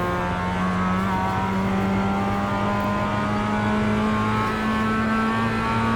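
Race car engine in the iRacing game, a continuous steady droning tone that holds loud throughout with slight pitch shifts as the car brakes into a corner.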